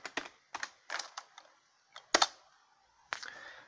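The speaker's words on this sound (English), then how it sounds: "Nice PS2 keyboard, still works." Keys clatter on an old PS2 computer keyboard in close, irregular bursts of quick clicks separated by short pauses, with no voices.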